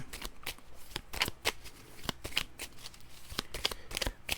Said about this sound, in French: Fait que je vais aller rechercher 3 cartes dans mon deck. Fait que je brasse ça.